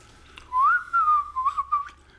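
Someone whistles a short, wavering tune, a clear sliding tone with a few brief breaks, close and fairly quiet against a silent background.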